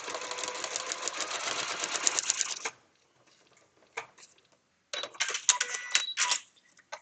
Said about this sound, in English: Just lifting the presser foot, hand cranking down at the start of the line. I'm going to stitch and off we go.